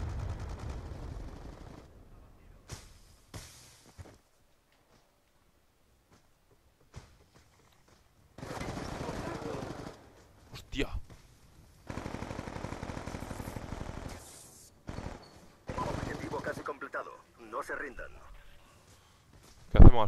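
Gunfire from the video game Black Ops 2 comes in scattered bursts and single shots between quiet gaps, with a player talking over parts of it.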